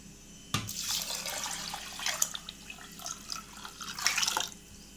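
Water splashes and pours into a pot of washed rice and toor dal, starting with a sudden gush and continuing as a running, trickling flow with a few louder surges, close and clear.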